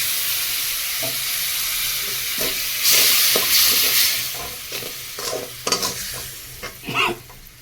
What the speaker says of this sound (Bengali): এবার সুন্দর করে এটাকে ভেজে এবার একটু জল দিয়ে দেবো যাতে ময়লাটা না পুড়ে যায়